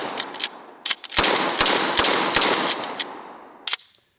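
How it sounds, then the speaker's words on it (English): A Winchester Model 1912 shotgun with a shockwave-style setup fires a rapid string of sharp, loud blasts, roughly six shots in quick succession followed by a trailing tail and one final report. "Now for the Winchester Model 1912. This kind of has a shockwave setup, and this guy only holds 6 rounds."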